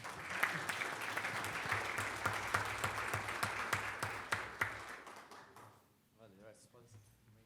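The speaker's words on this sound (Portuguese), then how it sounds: "Uma salva de palmas para eles, pessoal." An audience claps steadily to welcome guests onto the stage at a talk on economic liberalism. The applause fills the room for about five seconds, then thins and fades out.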